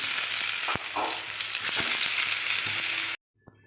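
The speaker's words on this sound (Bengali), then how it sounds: "একটা মাগড়া বেগুন, এই দেখো এত মোটা মোটা করে কাটা ভেজে নেব।" Thick eggplant slices rubbed with salt and turmeric sizzle steadily in hot oil, a loud dense crackle with a few sharp pops that cuts off abruptly near the end, leaving brief faint sounds.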